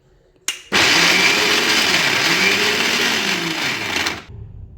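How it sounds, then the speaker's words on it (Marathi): A kitchen mixer grinder whirs loudly for about four seconds, grinding ginger and garlic into paste, starting abruptly, its motor pitch wavering as the blades churn, then cutting off. "आता आपण हे मिक्सरला वाटून घेणार आहोत"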